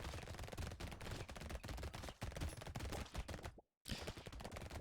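SMGs in the video game Brotato fire in rapid, continuous bursts, loud and dense, with one brief silent gap before the shooting resumes.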